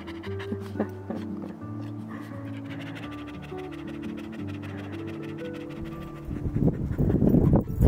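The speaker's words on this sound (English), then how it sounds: "I have here a very tired dog." A tired dog pants on a woodland walk, rapid breathy panting under a low hum, with loud close scuffing and rustling near the end.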